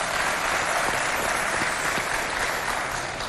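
A studio audience at a Chadian television talk show breaks into steady, dense applause that holds at an even level throughout.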